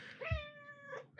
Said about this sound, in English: Here's some meowing.